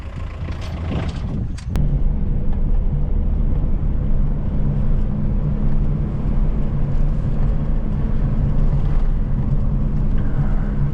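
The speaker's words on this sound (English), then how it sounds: "So we're cruising at around 60 and is doing it comfortably." A Peugeot 309 car cruising at around 60 on an Indian road, a steady, loud engine and road drone heard from inside, continuous throughout after a brief bump near the start.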